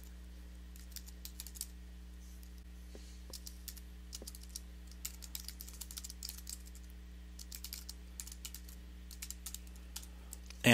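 Steady, quick typing on a computer keyboard, soft individual key clicks under a constant electrical hum, close and fairly quiet, while C++ code is written, with a louder clunk at the very end.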